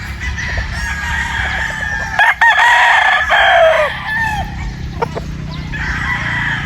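Sweater gamefowl roosters crow loudly on a farm, with several overlapping cock-a-doodle-doo calls rising over a steady background of clucking and farmyard noise.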